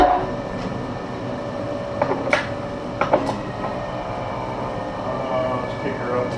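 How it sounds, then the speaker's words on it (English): A machine tool runs while machining metal, giving a continuous mechanical rumble and whir with scattered metallic clicks and taps, fairly loud and close, with a person talking over it. "Let's see if we can do a little machining."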